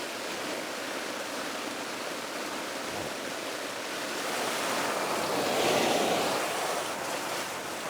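Water is poured over a small shelter to mimic rain, making a steady soft rushing hiss that swells a little midway before settling back.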